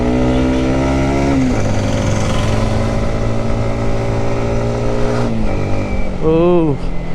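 A motorcycle ridden up a winding hill road between Kodaikanal and Munnar, its engine droning steadily close by with gear-shift pitch drops, under a voice and faint wind.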